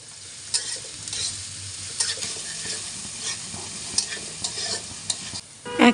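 Chopped onion, green chili and crushed garlic frying in a pan for a shidol dish, a steady close sizzle broken by repeated scraping stir strokes and a louder clatter at the end.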